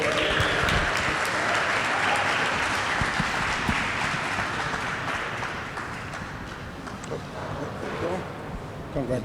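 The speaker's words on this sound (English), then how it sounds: "give a warm round of applause for Mr." Outdoor applause from the crowd at a Guyana flag raising ceremony for an honoree, a broad continuous patter of clapping under wind-like noise that tapers slightly toward the end.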